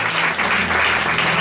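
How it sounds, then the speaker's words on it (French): A church audience in Versailles claps loudly and continuously in dense, even applause, heard close and filling the whole short moment. "Je veux qu'on acclame le Seigneur pour l'apôtre Israël"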